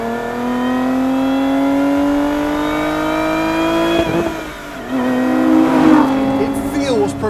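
Supercharged engine of a Lotus Emira sports car accelerating hard, a loud, steady rising whine and roar through the gears with a brief dip at a shift before it climbs again.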